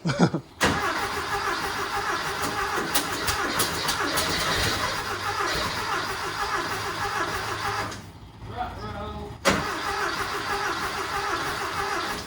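A rat rod Porsche fitted with a custom turbo cranks and runs loudly and steadily up close, briefly dipping quieter near the end before picking back up.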